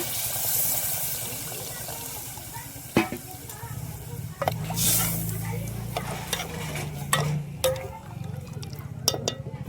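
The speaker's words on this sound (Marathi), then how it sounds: "तर चला, आता टाकू आपण यातनं पाणी." Water goes into egg curry masala frying in a pan, the low sizzle giving way to bursts of pouring and hissing, with stirring clatter and sharp utensil knocks close by.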